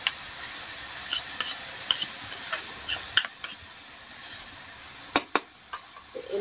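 Soaked soya nutri chunks being stirred into a tomato masala, scattered scrapes and light metallic clinks of a spoon against a pan at an uneven pace over a quiet sizzle, with no voices.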